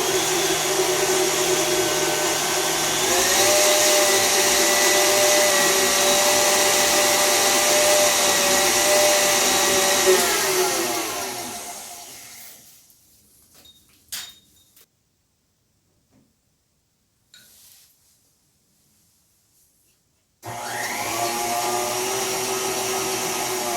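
Electric mixer whipping cream for a quick chocolate mousse, a loud steady motor whir whose pitch drifts as the cream thickens, then cuts off to near silence with a few light clinks before starting up again.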